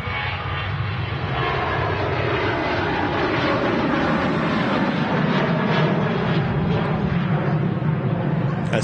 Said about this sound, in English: Here goes the Ryanair, 737-800.